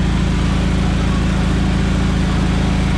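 A John Deere 317 lawn tractor engine running slightly below its proper speed, a loud, steady, close drone with a low throbbing pulse and no change throughout.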